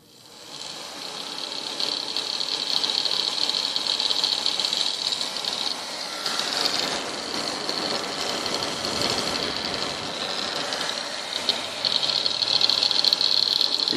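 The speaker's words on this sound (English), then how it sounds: "And now for this blower motor here." Small blower motor powered by a rectified, modified variable AC-DC power supply, running with a steady high whine and airy rush that shifts pitch slightly midway, close and moderately quiet.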